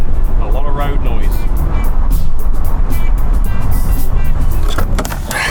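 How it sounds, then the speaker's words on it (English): Loud, steady road roar and rumble fill the cabin of a moving converted ambulance van whose side panels have been stripped off. The noise is broadband and constant, with faint rattles and a few brief tones on top. "this van sounds a hell of a lot different without those side panels on. A lot of road noise."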